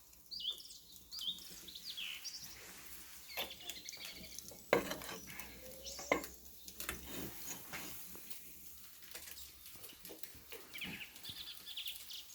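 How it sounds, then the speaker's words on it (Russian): Quiet sizzling and crackling of pork shashlik over hot charcoal in a mangal grill, with occasional sharp clinks and pops scattered through, and birds faintly chirping in the background. "Угли уже готовы, друзья. Пошли потихонечку жариться."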